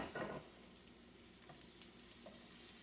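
Cod fish fillets sizzle and crackle softly in a large coated pan, a steady quiet frying hiss with a brief louder burst at the start as the fish goes down.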